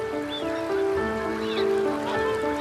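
Whooper swans and geese calling on a loch in Scotland, a steady chorus of overlapping honking and bugling notes with a few rising calls standing out.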